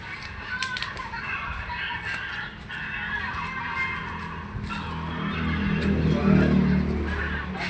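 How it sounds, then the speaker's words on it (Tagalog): A newly bought engine runs a water pump for farm irrigation outdoors, giving a steady low rumble that grows louder and fuller over the last few seconds, with faint background voices and other outdoor sounds. "Yan ang bago niyang makina."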